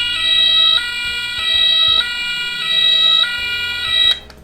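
A Playmobil 2015 fire engine toy (set 5363) sounds its electronic siren, a high two-tone wail alternating in a steady repeating cycle, close and loud, cutting off abruptly near the end.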